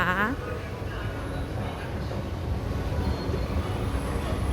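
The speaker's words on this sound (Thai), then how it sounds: "กำลังจะต่อรถไฟฟ้า MRT สีแดง" A Bangkok MRT electric train at Bang Sue station gives off a steady, loud rolling rumble and rail noise, with a brief tonal sound at the very start.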